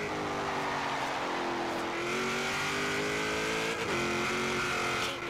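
A 1956 Ford F100 engine in the video game Forza Horizon 3 drones steadily from inside the cabin, its pitch rising and dipping slightly as it cruises, with no talking.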